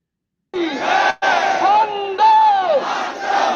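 A crowd of BJP supporters at a Delhi political demonstration chants slogans in loud, rhythmic unison, with voices rising and falling in repeated call-like bursts close by.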